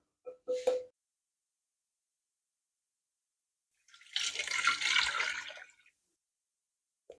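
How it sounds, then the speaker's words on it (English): Water splashes into a bowl of marinated chicken in a kitchen, a brief gush of roughly two seconds, preceded by a few short clinks and otherwise silent. "Now fill some water in the bowl so all this flavor comes out"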